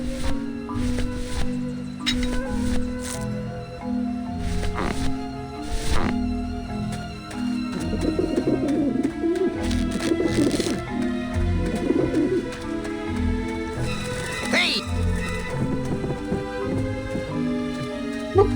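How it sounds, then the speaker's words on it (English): Pigeons cooing in Grim Fandango, soft repeated coos amid rustling and scattered game sound effects, steady throughout with a busier stretch in the middle and no talking. "bird sound. Run, you pigeons!"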